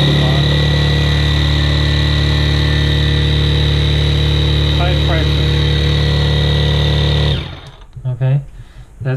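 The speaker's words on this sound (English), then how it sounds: "This is a really high pressure pump, a lot of power" A high-pressure pump running off a 12V power tool battery hums loudly and steadily with a constant motor drone for about seven seconds, then cuts off abruptly, leaving someone talking.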